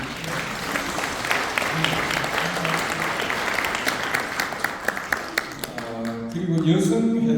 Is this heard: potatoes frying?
no